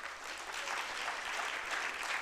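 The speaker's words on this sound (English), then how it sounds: "Please, round of applause to her." Audience round of applause at a strategy launch and storytelling event, steady massed clapping, fairly faint and distant, sustained throughout.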